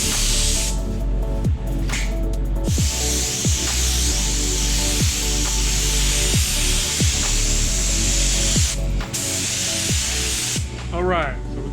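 A spray gun hisses steadily as base coat paint is laid onto a car body, a continuous loud spray with periodic clicks and shifts, interrupted by short breaks.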